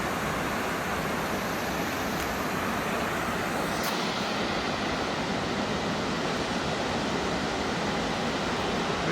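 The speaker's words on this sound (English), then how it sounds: "it just comes right down to this waterfall and little swimming area" A creek waterfall pours into a small swimming area along a forest trail, producing a steady, dense rush of falling water that stays loud and unbroken throughout, with no voices.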